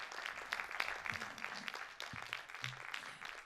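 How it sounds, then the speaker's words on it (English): An audience in a Melbourne theatre applauds at a hospital benefit program, a faint, continuous patter of many hands clapping together with no voices over it. "Please join me in applauding them"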